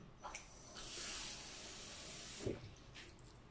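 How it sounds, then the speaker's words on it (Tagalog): A little water is poured into a pot of vinegar-braised milkfish for paksiw, a faint, brief trickle and splash, quiet and close. "Kunting tubig lang ang ating ilalagay."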